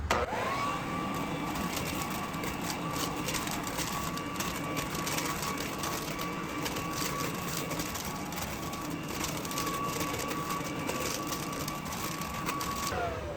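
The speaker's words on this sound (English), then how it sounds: "now we're gonna turn this vacuum on" A motorized leaf vacuum shredder running continuously at close range, a loud steady whine with a constant high tone for the full duration.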